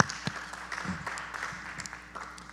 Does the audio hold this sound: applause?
yes